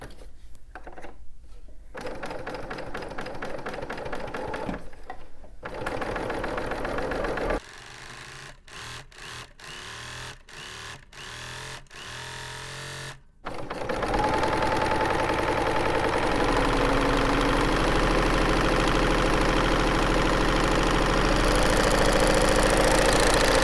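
A sewing machine stitches a rolled hem with a 5/8-inch seam allowance, running in a loud, steady, close whir with a few brief stops and restarts and then one long continuous run.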